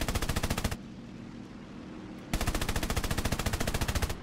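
Rapid machine-gun fire from an SBD-3 Dauntless aircraft in War Thunder, two loud sustained bursts separated by a lull of engine and wind noise.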